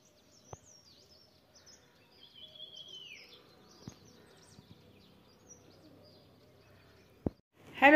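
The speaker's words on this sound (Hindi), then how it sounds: "आज की सुबह में आपको चिड़ियों की चहचहाट सुनाई दे रही है।" Birds chirp faintly on a quiet morning in Mussoorie, with a thin high call and scattered tweets over near silence, broken by a few sharp knocks and a louder burst at the very end.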